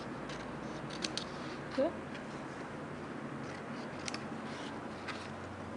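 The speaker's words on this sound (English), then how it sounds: "For the wings I'm cut into 2." Scissors snip paper wings for a paper craft bird, producing faint, scattered crisp snips, with a soft voice speaking briefly.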